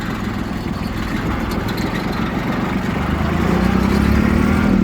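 The engine of a Mitsubishi MT241 tractor runs close by with a loud, steady low rumble that rises slightly in pitch toward the end, and no talk is heard over it.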